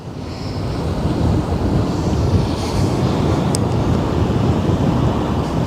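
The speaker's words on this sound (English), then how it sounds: "Look at her slicing through the water." A large ship cuts through open water on the Westerschelde estuary, its bow throwing up spray; a steady, dense rush of water and surf fills the clip, roughened by gusting wind against the microphone.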